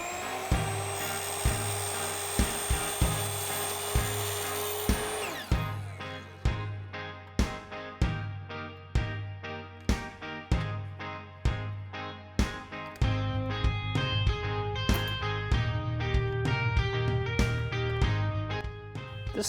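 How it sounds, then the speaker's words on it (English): A miter saw fitted with a metal-cutting blade cuts down metal hinges: a long, loud, sustained whine for about five seconds, then a rapid run of sharp impacts and clattering, with a steady motor hum returning near the end. "I cut down the hinges using the heart miter saw with a metal cutting blade."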